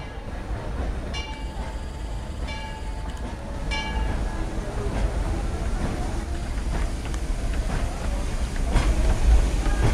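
A Disneyland Railroad train rolls along with a continuous rumble and clatter; several short whistle toots sound early on, and indistinct voices come through now and then.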